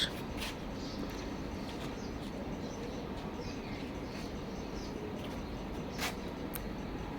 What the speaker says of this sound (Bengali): প্রচুর পাখির কিচিরমিচির শব্দ